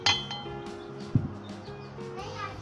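Spoon clinks against a glass while vanilla custard powder is stirred into cold milk, a couple of bright taps over a quiet kitchen, with a voice speaking in the background.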